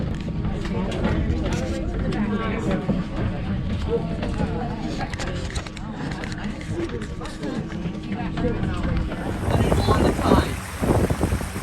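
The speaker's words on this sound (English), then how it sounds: "We're now on the boat, getting ready to do a tour." Boat motoring through tidal creeks near Myrtle Beach, South Carolina, on a tour, with wind buffeting the microphone and water rushing; people talk over the steady engine and wind noise.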